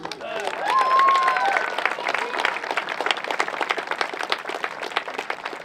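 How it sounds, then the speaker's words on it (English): Outdoor crowd at a public event with a governor and a Union Pacific CEO applauding a Viking band and Islander cheerleaders, many hands clapping in a dense, sustained patter, with cheering and voices mixed in at the start. "another round of applause to the Viking band and the Islander cheerleaders"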